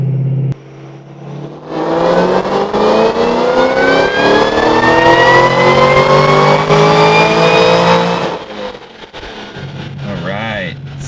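A 2014 Shelby GT500 Mustang engine with added boost and supercharger whine revs up through a dyno pull, climbing steadily in pitch for several seconds, loud and close, then cuts back to idle as a voice speaks.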